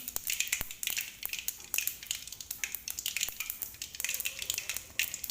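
Food spluttering and crackling in hot oil in a pan, a steady sizzle broken by sharp pops and spits, close and clear with no talk.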